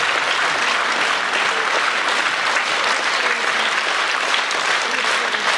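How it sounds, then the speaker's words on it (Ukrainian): A concert audience applauds a visiting folk ensemble with dense, steady clapping that fills the hall evenly from start to finish, with no voices standing out. "ваші оплески всьому складу Світлиця, які приїхали"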